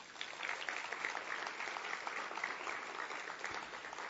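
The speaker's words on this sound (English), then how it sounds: "Give them a big round of applause." Steady, dense applause from a conference audience at an education and workforce plenary, thanking a lead sponsor; even and sustained throughout at moderate loudness, with no speech over it.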